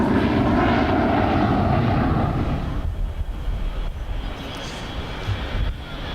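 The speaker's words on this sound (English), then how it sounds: "727 taking off." A Boeing 727 airliner takes off with a loud, broad jet roar that gradually fades and thins as the aircraft climbs away.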